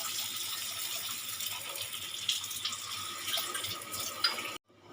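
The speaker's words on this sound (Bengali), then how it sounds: "দিয়ে দেবো জল" Water pours steadily into a pan of fried prawns and spice masala for chingri kalia, a close, continuous gushing splash that cuts off abruptly at the end.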